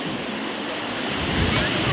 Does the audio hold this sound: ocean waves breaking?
yes